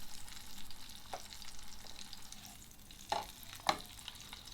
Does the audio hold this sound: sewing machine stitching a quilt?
no